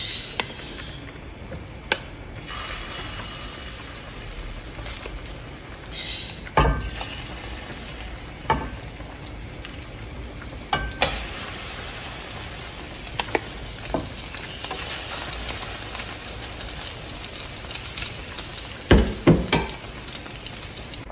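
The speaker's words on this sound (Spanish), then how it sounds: "Vamos a poner un sartén con bastantito aceite que se caliente. Me voy a ayudar con una cuchara sopera para hacer estas tortitas." Nopal patties fry in a pan with plenty of hot oil, giving a steady crackling sizzle throughout, punctuated by several sharp pops and spoon scrapes.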